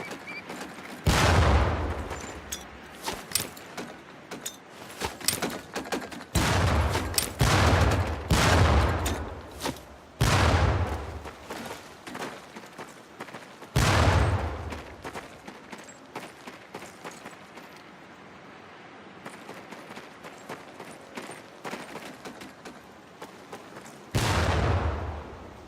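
Training grenades bursting among target barrels in the video game Medal of Honor: Pacific Assault, about half a dozen loud, booming blasts at irregular intervals, some in quick pairs, with quieter gaps of ambient rumble between them.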